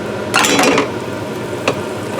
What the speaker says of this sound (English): you flip it, and then it sizzles up again